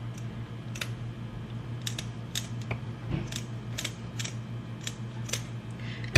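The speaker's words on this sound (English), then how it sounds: "I just cut that straight through." Scissors snipping straight through wreath-making material for a fall Halloween wreath, a series of crisp, quick clicking cuts in irregular rhythm over a steady low hum, close and fairly quiet.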